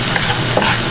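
Food sautéed in a pan with salt and pepper sizzles loudly and steadily, with stirring scrapes close up and no voices.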